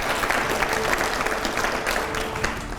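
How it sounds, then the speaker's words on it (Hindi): Loud audience applause rings out in a TV newsroom studio, a dense continuous clatter of many hands held at an even level. "जोरदार तालियां हो जाए"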